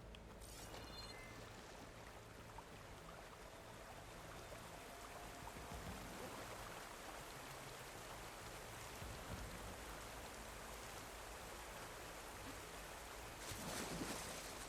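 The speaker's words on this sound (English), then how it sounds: "Under the waterfall." Rushing water from a waterfall in the video game Horizon Forbidden West, a steady, dense wash of noise that holds through the whole stretch at low level, with no speech over it.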